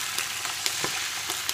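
Sausages frying in a pan with plenty of oil and a splash of red wine, a continuous hiss with small crackles and pops.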